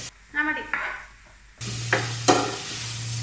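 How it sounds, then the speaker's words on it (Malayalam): Three onions sautéing in a pan for a spicy coconut-bit beef dish, a brief stir and clatter followed by a steady, close sizzle of frying. "ഇത് കുറെ സമയം എടുക്കുമല്ലോ വഴറ്റിയത്. ഒത്തിരി ഇല്ല, ഒരു മൂന്ന് സവോള."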